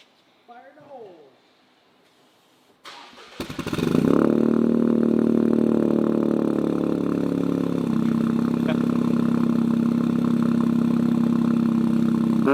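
A 2023 Toyota GR Corolla with a new exhaust fires up after brief sounds and then idles loudly with a deep, rumbling exhaust, holding a steady throaty drone with a slight change partway through.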